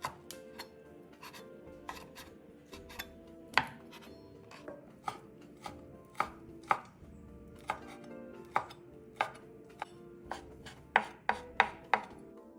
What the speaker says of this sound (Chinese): 最后再切成颗粒状。